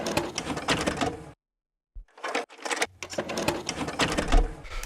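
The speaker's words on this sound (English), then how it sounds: "Like I literally just took these like sounds of people like loading up cameras, right? But it gives you some Foley percussion." Recorded camera loading sounds used as Foley percussion in a modern techno track, giving dense clicky, rattling mechanical patter with a brief silent gap, close and fairly loud.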